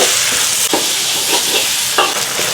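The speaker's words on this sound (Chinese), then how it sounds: "锅中加油，葱姜蒜八角，来点豆瓣酱" Garlic, ginger, scallion and star anise stir-fried in hot oil in a wok, a loud steady sizzle broken by a few sharp scraping stirs of the spatula.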